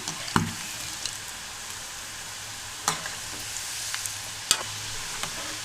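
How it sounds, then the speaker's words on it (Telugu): Crunchy rice-flour chegodilu fry in hot oil with a steady sizzle, punctuated by a few sharp scrapes and clinks as a ladle stirs them from the sides of the pan; no speech. "ముందుగా వేసిన వాటిని సైడ్ నుంచి కదిలిస్తున్నాను"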